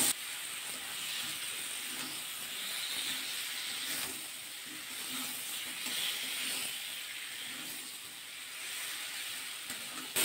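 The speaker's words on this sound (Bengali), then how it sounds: "সয়াবিন আলু ডিম সব দিয়ে দেবো একসাথে, আর 2-1 মিনিট কষিয়ে নেব ডিম দিয়ে সয়াবিন দিয়ে আলু দিয়ে।" Eggs, soybean chunks and potatoes frying together in oil with curry masala, giving a steady, moderately loud sizzle and hiss with faint stirring scrapes throughout.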